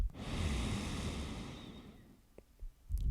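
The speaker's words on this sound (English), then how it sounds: "Just take a nice deep breath in through the nose" A single slow, deep breath is drawn in through the nose during a yoga child's pose, a long soft airy inhale lasting about two seconds, close to the microphone, followed by a few faint clicks and rustles.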